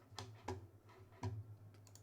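Keys clack on a mechanical keyboard with Alps switches, an aluminum plate, an Alps 64 PCB and a Tech60 case, a few sharp, close, quiet strikes spaced irregularly with no talking.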